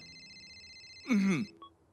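A phone ringtone sounds in a Hindi animated cartoon: steady electronic tones, then a short, louder warbling burst that quickly fades, heard alone without talking.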